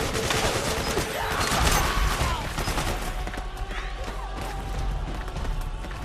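Gunfire crackles through a battle in the video game Metal Gear Solid 4, with rapid overlapping bursts and shots over loud combat noise while soldiers shout in the background.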